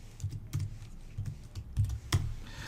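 A password is tapped out on a computer keyboard: a quick, quiet run of about half a dozen close keystrokes in an irregular rhythm, with one sharper click near the end.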